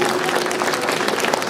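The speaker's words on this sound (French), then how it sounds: "on peut applaudir quand même un peu" Audience at a cosplay parade claps in a brief, dense burst of applause, moderately loud and continuous with faint crowd murmur.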